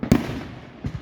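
Fireworks bursting at a Fourth of July show: a loud, close boom at the start, then quieter rumbling and two fainter pops near the end.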